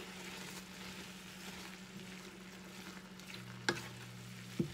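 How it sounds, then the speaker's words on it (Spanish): A ropa vieja meat mixture in a pan gives a low, quiet sizzle while it is stirred, with two sharp clinks of the spoon against the pan near the end. No one speaks. "Y vamos a mezclar todo."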